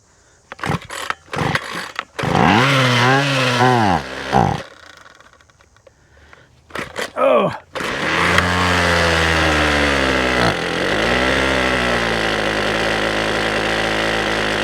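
A Ryobi string trimmer's small two-stroke engine is pulled over several times in short bursts, catches briefly, then starts and settles into a steady, loud buzzing idle close by.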